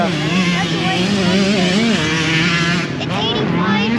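Motocross motorcycles racing on a dirt track at a Triple Crown round, a steady loud engine drone with pitch swells as bikes rev and shift, continuous throughout.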